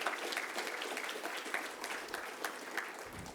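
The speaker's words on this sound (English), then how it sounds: "we can have a round of applause to our grade 12 music students" Audience applause for grade 12 music students at a school class of 2020 leaving ceremony: a faint, distant, even wash of many hands clapping at once.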